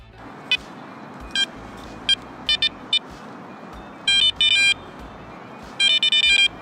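Electronic beeps from a metal detector during urban coin hunting near a parking spot, reacting to a shallow target: short bright tone bursts in irregular clusters, some longer buzzing runs, loud and close over faint background noise.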